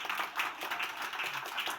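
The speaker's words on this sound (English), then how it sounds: "Round of applause." Faint, distant clapping from a crowd, a steady patter of applause lasting a couple of seconds.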